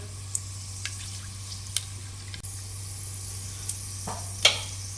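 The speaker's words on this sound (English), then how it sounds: "a piece of cinnamon stick, 2 bay leaves, and black peppercorns, and lightly fry them for about a minute" Green cardamoms, cinnamon stick, bay leaves and black peppercorns lightly frying in oil in a karahi, a soft steady sizzle with a few sharp clicks and taps of a utensil, close and quiet, no talking.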